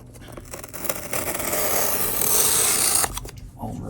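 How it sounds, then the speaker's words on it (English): A blade slices open a cardboard box close up, making a scraping, tearing cut that builds over a couple of seconds and ends with a few sharp clicks and rustles. "Let's go ahead and just cut this bad boy open."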